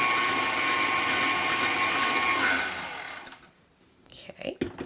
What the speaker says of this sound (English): but I always prefer my stand mixer